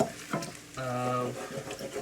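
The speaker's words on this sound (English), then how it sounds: "the bacon is already starting to get crispy, and it's emitting a lot" Strips of bacon crisping in a pan for charro beans, a soft steady sizzle running under a voice that talks through the whole moment.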